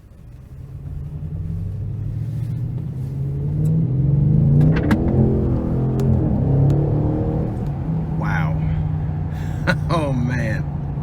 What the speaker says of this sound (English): take this 2022 Audi RS7 out on the road for a quick test drive.